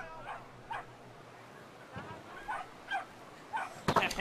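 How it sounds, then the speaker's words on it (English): A dog in the video game Brothers: A Tale of Two Sons gives several short yips and barks spread across the moment, fairly close, with someone talking over them and a louder burst at the end. "doggy."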